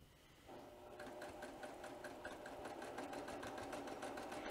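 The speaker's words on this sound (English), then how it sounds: "This sewing machine goes really, really fast." A sewing machine runs fast and steady while chain piecing quilt fabric, a rapid even needle clatter with a mechanical hum, close and continuous, no voices.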